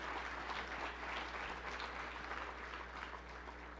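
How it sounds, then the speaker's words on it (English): A crowd of foster care workers claps loudly and continuously through a motivational speech, a dense, even patter of many hands with a steady low hum underneath. "So can we give them a round of applause, please?"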